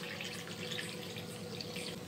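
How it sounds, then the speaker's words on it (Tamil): Measured water, about two cups for one cup of soaked rice for vegetable pulao, pours into a cooking pot as a soft, steady splashing stream, fairly quiet and close. "இப்போ இதில் வந்து நம்ம தண்ணி வந்து அளந்து சேர்த்துக்கலாம்."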